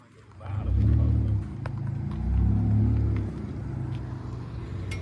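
Pontiac engine with its catalytic converters removed idles and revs with a deep, loud rumble, swelling twice in throaty bursts before settling into a steady growl nearby.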